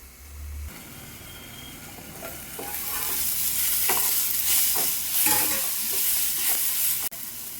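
Ivy gourd pieces with fresh coriander cook in a pan for chutney, giving a steady sizzle and frying hiss broken by stirring scrapes of a spoon against the metal, close and continuous, with no voices.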